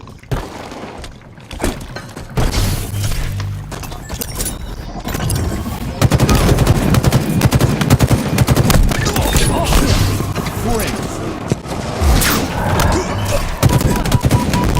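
Gunfire in the video game Halo Infinite: rapid bursts of automatic weapon fire with sharp cracks and booms, loud and dense, continuing through the scene over a music bed.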